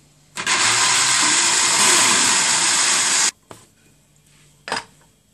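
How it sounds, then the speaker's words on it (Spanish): Milk mixture for an apple tarantela whirs in a blender, one loud steady buzzing run of about three seconds, then a brief clunk and a short burst as it stops. "lo que vamos a hacer es licuar hasta que quede todo bien"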